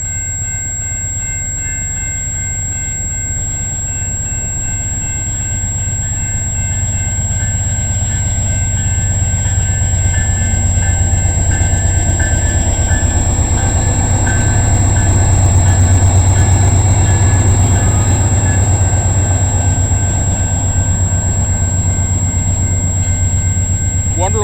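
Freight train hauled by C6M-class locomotive 3423 passing at Egerton St in London, Ontario: a loud, steady low diesel drone and rolling rumble building over about twenty seconds, with a faint high tone above it.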